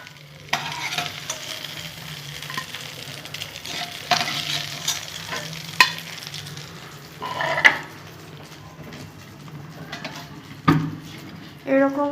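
Shrimp (chingri) fritters sizzle in a pan, stirred and turned, with a continuous low frying hiss broken by several distinct clanks of a utensil against metal and brief faint talk.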